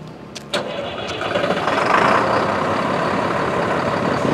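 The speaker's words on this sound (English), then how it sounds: "Can-Am's in the trailer. It's a little dirty, but it's ready to go. It's gonna fire up Freddy." A slightly dirty Can-Am off-road vehicle, parked in a trailer in the desert, cranks and fires up after about half a second, then settles into a loud, steady engine rumble close by, with no talking.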